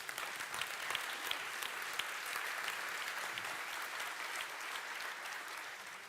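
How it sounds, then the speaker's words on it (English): An audience at a panel on virtual worlds at a Paris tech conference claps in a dense, steady wash of applause that holds for several seconds and eases slightly at the end. "Let's give them a round of applause."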